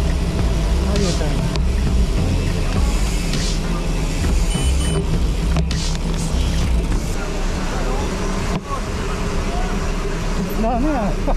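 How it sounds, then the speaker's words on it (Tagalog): Street traffic in Ayala, with a continuous low rumble of passing vehicles under several people talking nearby, steady throughout with no clear pauses. "Traffic."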